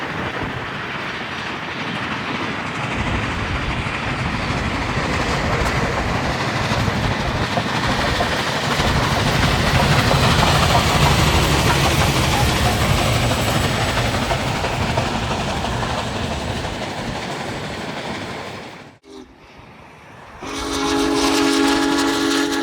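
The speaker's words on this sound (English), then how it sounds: "The grade is starting to get heavy for the Big Boy as black exhaust billows out the top between Enterprise and Morgan." Union Pacific Big Boy 4014 steam locomotive labors up a heavy grade between Enterprise and Morgan, Utah, with a loud continuous roar of exhaust and rolling wagons that cuts off near the end.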